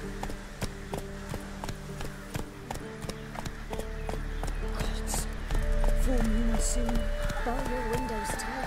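Roach, the horse in the video game The Witcher 3, gallops in a quick, steady clip-clop of hoofbeats that builds to a fuller rumble, with a person talking over it.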